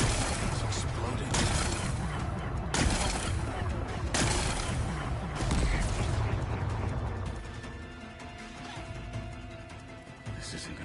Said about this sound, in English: Gotta blast away some rocks, so I can expose the power cell.